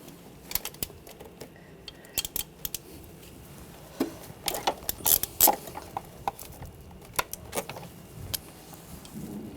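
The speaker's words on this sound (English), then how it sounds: "Using a E10 socket, we're going to take the bolt out for the crank sensor." Ratchet with an E10 socket backing out the crankshaft position sensor bolt on a 2009-2013 BMW 328i xDrive 3.0L inline-six: bursts of close, crisp ratcheting clicks in uneven runs, alone with no talk.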